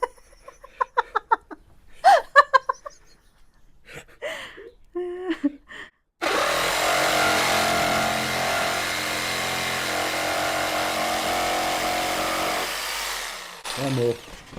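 A power saw cutting wood whines steadily for several seconds, loud and close, after a stretch of short voices and laughter, then cuts off.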